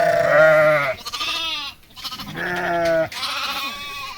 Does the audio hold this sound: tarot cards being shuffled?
no